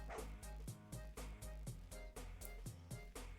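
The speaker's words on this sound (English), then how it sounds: "Such an incessant barking." Dogs in a video game bark in a quick, regular series of sharp, evenly spaced yaps, rather faint and repeating steadily with no talking.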